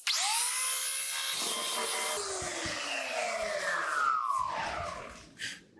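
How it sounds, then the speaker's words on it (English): A power sander works over wood filler on the deck of a cedar paddle board, a loud steady whine running nearly six seconds with some rough grinding tones, then cutting off near the end. "We'll sand that down real quick."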